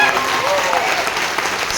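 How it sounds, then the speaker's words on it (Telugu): Audience applause at a Vestige entrepreneur meeting, a dense steady clapping that fills the whole moment at close range with some crowd noise mixed in. "ఒకసారి జోర్దార్ క్లాప్స్."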